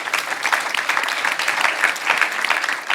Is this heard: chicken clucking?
no